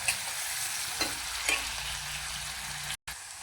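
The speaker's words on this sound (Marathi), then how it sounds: "कांदा आपल्याला एकदम बारीक गॅसवरती फ्राय करायचा आहे, त्यामुळे असा खमंग लागतो।" Onion fries in a pan over a very low gas flame, a steady soft sizzle broken by a few faint stirring scrapes, with a brief dropout near the end and no talk.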